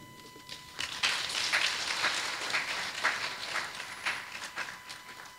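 Audience applause at a university memorial leadership lecture, a dense patter of clapping from a sizeable crowd rising after a quiet start and holding steady at moderate volume.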